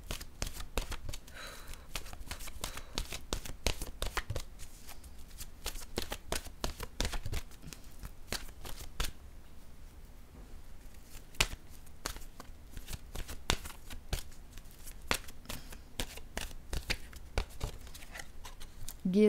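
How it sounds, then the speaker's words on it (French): Oracle cards being shuffled by hand before one is drawn, a long run of crisp, rhythmic riffling snaps close up, continuing steadily throughout with only brief pauses. "Je vais piger maintenant une carte de mon oracle de l'âme intuitive."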